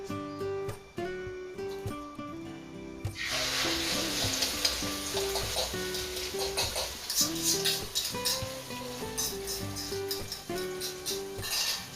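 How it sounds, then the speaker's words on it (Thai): Beaten egg with cha-om leaves frying in hot oil in a pan, a steady close crackling sizzle throughout, with a few utensil clinks early on. "พอน้ำมันร้อนได้ที่นะคะ แล้วก็เอาไข่ที่เรานะคะเตรียมไว้นะคะ ใส่ลงไปนะคะ"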